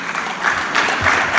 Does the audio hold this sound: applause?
yes